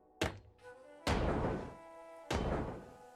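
Three heavy sledgehammer blows land on scrap metal in the ship-breaking game Ship Graveyard Simulator 2. Each one is a loud, solid thunk with a short ringing decay, spaced about a second apart.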